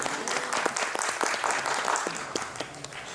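Sustained applause from an audience welcoming a lead actor at a Magar community birth-anniversary event, steady dense clapping filling the whole stretch at moderate level.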